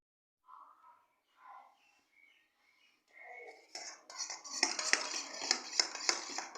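Flour is whisked into batter in a bowl. Soft, scattered sounds come first, then a busy, close run of scraping and clinking strokes fills the second half.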